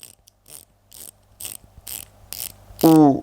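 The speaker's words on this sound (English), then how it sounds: "120 click stainless steel bezel with an aluminium insert with lume pip" Stainless steel 120-click bezel with aluminium insert on an Orient dive watch turned in short bursts of crisp, close ratcheting clicks, with a brief buzzy rasp at the end.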